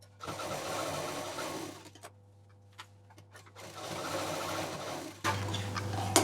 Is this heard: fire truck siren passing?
no